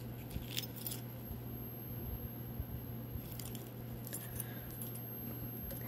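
A bunch of car keys from a collection, including a Chrysler key and a 2010 Ford Fusion key, jingle softly in the hand with light metallic clinks over a steady low hum.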